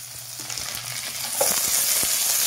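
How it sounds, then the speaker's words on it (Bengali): Chopped tomatoes frying in a pan with onion and capsicum, a steady close sizzle with occasional stirring scrapes and taps. "ওই টমেটো কুচিগুলো দিয়ে দেবো"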